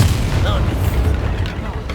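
A Bombarda spell blast in Hogwarts Legacy, a dull booming explosion at close range that rumbles low and fades over about two seconds, with game voices faintly audible.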